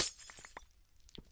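Glowstone blocks are broken with a pickaxe in Minecraft: a quick run of several short, glassy cracking crunches, close and fairly quiet, alone with no talk.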